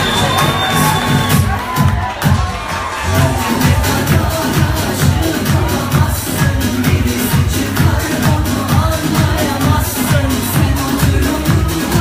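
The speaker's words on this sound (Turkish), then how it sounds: "Alkışlarınızla." Concert audience at a show in New York cheering and clapping, a loud, continuous crowd roar with rhythmic clapping pulses and heavy low-end thumping music beneath.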